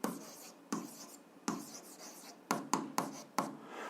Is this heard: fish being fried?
no